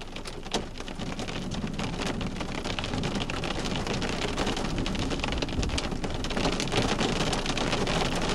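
Heavy rain mixed with some hail pours down outdoors during a massive thunderstorm in Edmonton, Alberta, a dense, steady roar of drops close by with scattered sharper impacts throughout.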